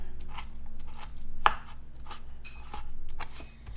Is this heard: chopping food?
yes